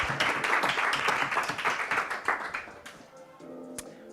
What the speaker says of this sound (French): je vous propose d'applaudir très fort et d'accueillir très fort notre quatrième candidate